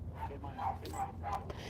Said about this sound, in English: why are the dogs going crazy?